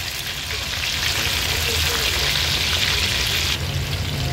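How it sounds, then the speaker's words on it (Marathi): Batter-coated prawns fry in oil over a medium flame, giving a steady, close, dense sizzle and crackle that holds evenly throughout with no voices. "आता सर्व कोळंब्या ह्या मी पलटून घेते आणि मीडियम फ्लेमवरच हे आपल्याला फ्राय करून घ्यायचे आहेत"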